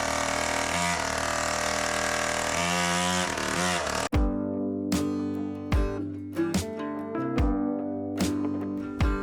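A small engine on a motorized penny farthing dirt bike revs loudly in a sustained buzzing drone, then cuts off and settles into a choppy idle with sharp repeated blips of throttle.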